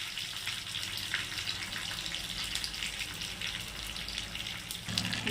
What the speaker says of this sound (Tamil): இப்போ நம்ம தாளித்து மோர் குழம்புல ஊற்றணும்.